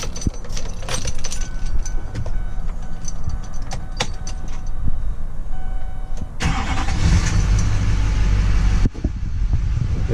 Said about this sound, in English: I'll turn on the truck for you.